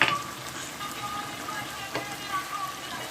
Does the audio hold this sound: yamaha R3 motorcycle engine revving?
no